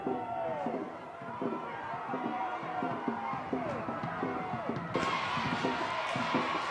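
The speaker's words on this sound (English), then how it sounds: "The crowd is cheering and everybody's going on" A crowd cheers at the finish of a dragon boat race at the 16th IDBF World Dragon Boat Championships in Thailand in 2023. The roar is steady, rising a little louder toward the end, while a commentator talks over it.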